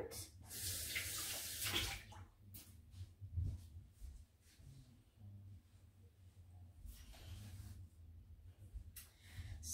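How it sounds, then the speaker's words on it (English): A hand rinsed under a running kitchen tap, bursts of close splashing water that start and stop, with quieter handling noises in between. "I'm gonna just rinse my hand"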